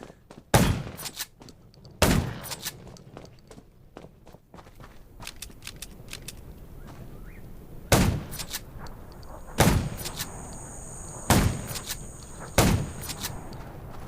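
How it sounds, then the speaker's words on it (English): Loud gunshots from the zombie survival video game Undawn, fired as single sharp cracks at irregular intervals with a long gap in the middle, over low background ambience. "Gunshots will attract more zombies."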